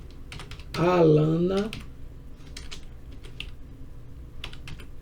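Computer keyboard typing during a programming lesson: scattered light key clicks and taps spread throughout, with a short burst of speech near the start.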